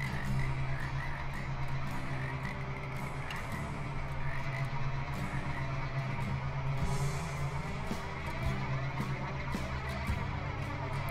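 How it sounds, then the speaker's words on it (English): Frogs croaking continuously in the Trainz train-simulator game, a dense chorus of overlapping croaks at moderate, even loudness with no talk. "the frog sound effects in here is very nice"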